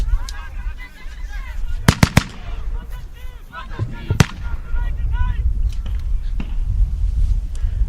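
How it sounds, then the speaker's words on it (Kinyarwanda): Gunfire in battle, a few sharp, loud shots cracking in a quick cluster and another lone report later, over a dense rumbling background with faint voices in the distance. "Umwanzi arakomeza arasa"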